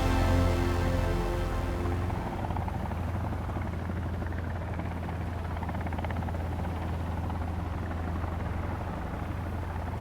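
A helicopter in a Sons of the Forest game cutscene produces a loud, steady rotor drone and engine hum that holds evenly for about ten seconds with no talking.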